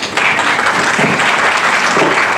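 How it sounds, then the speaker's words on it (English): Brisk, dense applause from a conference audience welcoming a speaker, starting abruptly and holding at a steady, loud level for its short length. "So please give a round of applause to welcome Mr."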